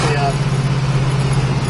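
A 1969 Chevrolet Camaro with a 383 stroker V8 idles with a steady, even low rumble throughout the short stretch.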